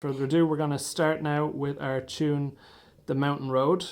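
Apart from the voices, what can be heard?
No everyday noise stands out behind the speech.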